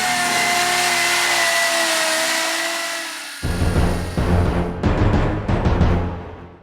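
A steady, loud motor whine holds for several seconds, then breaks into rapid, rough pounding and rattling as a light rented jackhammer chips at a hard concrete floor up close.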